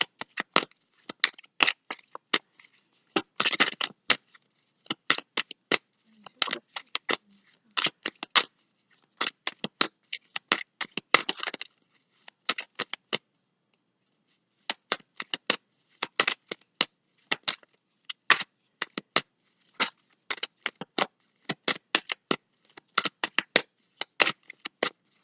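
Tarot cards are shuffled close by in quick bursts of crisp riffling and slapping, stopping for short breaks and starting again, with no talking over them.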